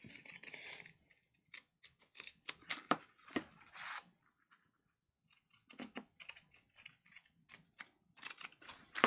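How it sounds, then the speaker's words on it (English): Scissors snip through paper for a handmade junk journal cover, with a series of short, crisp cuts coming in irregular bursts and brief pauses between them, close and fairly quiet. "I'm using the scissors with my left hand"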